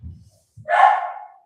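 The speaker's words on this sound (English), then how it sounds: "dog's barking" A single dog bark, sharp and fairly close, rings out after a couple of brief low thumps in an otherwise quiet setting.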